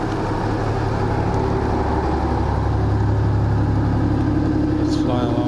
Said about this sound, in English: Oh, this is an old car.